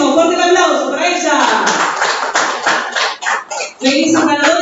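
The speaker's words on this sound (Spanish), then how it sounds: "Fuerte el aplauso para ella" Applause rings out for a cash prize winner at a municipal employee-day prize draw in Fiambalá, with steady clapping and crowd noise mixed with voices throughout, tapering briefly before swelling again.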